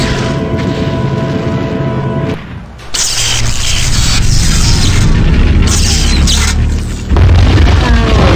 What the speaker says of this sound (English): he is attempting to destroy us with an energy blast. I will try to distract him and cause it to detonate early